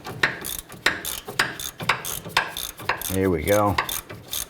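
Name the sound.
swivel head ratchet loosening a bolt on a Honda Pilot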